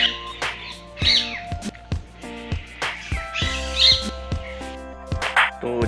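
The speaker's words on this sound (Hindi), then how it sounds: "इस चिड़ियाघर में मैंने बहुत सारे पक्षी, मोर बहुत ही करीब से मैंने देखे।" Birds squawk and call at a zoo where peacocks are kept, with loud, harsh cries repeating every second or two over a steady chorus of chirps.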